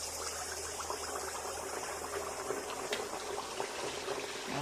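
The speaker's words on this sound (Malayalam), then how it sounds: "എണ്ണ ചൂടായി കഴിഞ്ഞു, ഇനി ഒഴിക്കട്ടെ." Neyyappam batter poured into hot oil in a pan gives a steady, close sizzling and bubbling hiss that holds evenly throughout, with no talking.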